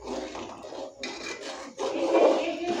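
A spoon scrapes the bottom of a pot of gently boiling milk for payesh. The stirring comes as rough rasping strokes in two or three bursts, close and fairly loud.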